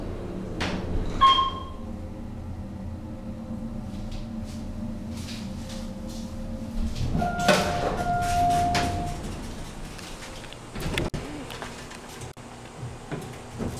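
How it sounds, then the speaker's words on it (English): An Otis hydraulic elevator at a villa building with a malfunctioning door: clunks and bangs as the door slides closed, a humming drone underneath, brief pings and a sharp knock near the end. "Door is closing on me. The door has a malfunction."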